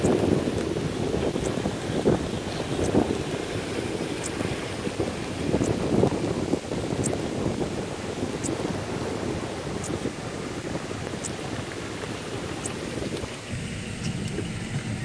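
Strong onshore wind and surf on the Outer Banks ahead of Hurricane Matthew, a steady roar of gusting wind buffeting the microphone over crashing waves, with faint rain ticks, continuous and loud throughout with no talking.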